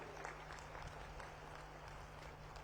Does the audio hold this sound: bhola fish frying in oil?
no